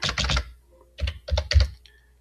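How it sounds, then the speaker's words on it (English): Typing on a computer keyboard up close: a quick burst of several key presses, a short pause, then another few clicks, crisp and fairly quiet with no talking. "so I'll have to type it in"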